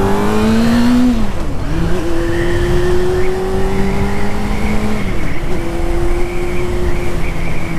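A custom-wrapped sport motorcycle engine revs loudly and steadily with no break, its pitch climbing through the gears, with a shift near the start and another about two-thirds through, and no voices.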